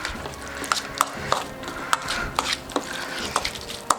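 A spoon stirring buffalo sauce in a bowl, a series of close, crisp clicks and scrapes repeating at an uneven pace with no talking.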